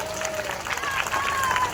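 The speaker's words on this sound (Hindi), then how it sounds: "सर के लिए जोरदार तालियां होनी चाहिए।" Crowd applause and cheering at a political event, a broad steady wash of clapping at moderate level with voices mixed in throughout.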